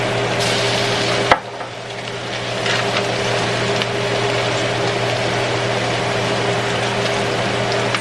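Garlic sizzles in a pan with onion for a pork ragu, a steady close crackle and hiss holding under a low kitchen hum with no one talking.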